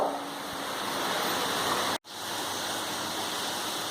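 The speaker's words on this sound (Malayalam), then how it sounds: "ഞാൻ ഈ ഉരുക്കിയെടുത്ത ശർക്കര നമുക്കൊന്ന് അരിച്ചെടുക്കാം." Melted jaggery syrup is poured and strained in a steady, rushing trickle that cuts out for an instant, then resumes at an even pace.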